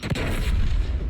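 A mine explodes in the video game Mass Effect 3, a single heavy boom near the start that rolls into a loud, sustained rumble for about a second.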